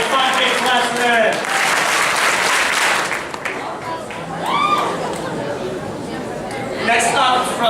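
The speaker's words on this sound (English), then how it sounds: "Get 5 big claps for that." An audience at a KUNA 2012 student assembly claps loudly and continuously, the applause dipping briefly midway, with voices chattering and calling out through it.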